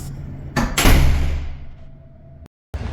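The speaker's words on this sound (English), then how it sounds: "They do lose 1/8 of a point for the concussive door closing." A heavy shower room door at a marina swings shut with a loud, concussive bang that lingers and fades, then cuts to brief silence before room noise returns.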